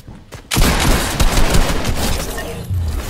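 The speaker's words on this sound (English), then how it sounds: "Someone tried to snipe at me" Sniper gunfire in a video game, a sudden loud crack after a brief quiet moment, followed by a sustained burst of heavy shooting and impacts, close and dense throughout.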